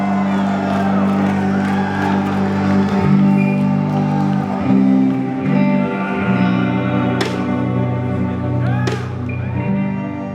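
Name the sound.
concert crowd cheering and singing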